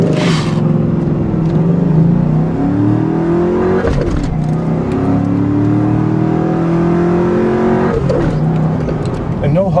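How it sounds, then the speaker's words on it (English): A 2001 Ford Mustang Bullitt Edition muscle car accelerating hard in a straight line, its loud engine rising in pitch through several gears with brief dips at each shift. "I have to admit, this car sounds magnificent."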